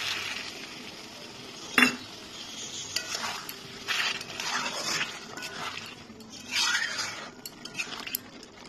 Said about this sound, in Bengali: এবার আমি এর মধ্যে একটু জল দিয়ে দিচ্ছি